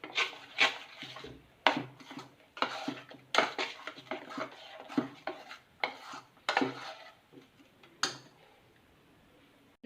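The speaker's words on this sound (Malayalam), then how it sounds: "ഇനി അതും കൂടെ ചേർത്ത് നമുക്ക് നന്നായിട്ട് മിക്സ് ചെയ്യാം." A spoon or utensil stirs plum cake batter in a bowl after eggs are added, giving repeated clattering scrapes and knocks against the bowl in an irregular rhythm, close and alone.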